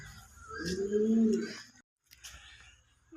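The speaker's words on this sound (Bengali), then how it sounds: "এই দেখো একটা কবুতর" Pigeons coo in low, rounded throaty notes at a zoo, a drawn-out call near the start, with a voice and background noise in the surroundings.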